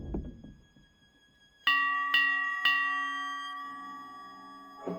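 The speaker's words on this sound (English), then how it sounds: "A ship's bell, like the one back in New Bethel." A ship's bell in an adventure video game is struck three times in quick succession, each loud metallic clang ringing out and decaying slowly into a long shimmering tail, with soft low rumbling before the first strike.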